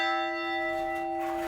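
A church bell rings from the bell tower of a 130-year-old church converted into a family home in Haldimand, Ontario, with one sustained, ringing tone and steady harmonics that carry on without fading.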